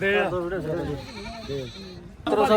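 Goats, including Barbari and Beetal breeds, bleat at a busy goat market in Dhanaula, with wavering cries rising over nearby people talking and a louder burst at the end.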